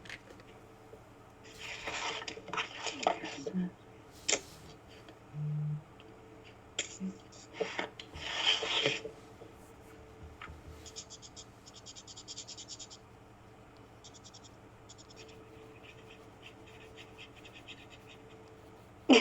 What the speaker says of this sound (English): I can hear everyone scratching their paper